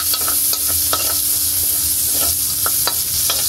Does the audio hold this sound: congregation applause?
no